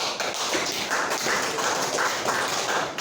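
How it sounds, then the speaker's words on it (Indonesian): A classroom of students applauds for a presenting group, a dense burst of clapping that keeps a steady rhythm for about three seconds, close and fairly loud. "untuk kelompok 2 kita beri aplaus"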